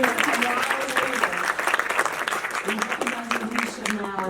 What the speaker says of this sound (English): Let's once again, let's applaud Sabrina.